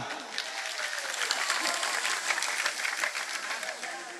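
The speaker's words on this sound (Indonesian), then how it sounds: "Tepuk tangan tampu." Applause from a congregation at a mosque sholawat gathering, a lively spread of many hands clapping steadily at moderate loudness, with some voices faintly mixed in.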